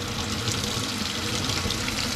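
Cold tap water pours steadily over a line held beneath the faucet, producing a constant close splashing hiss with no talking.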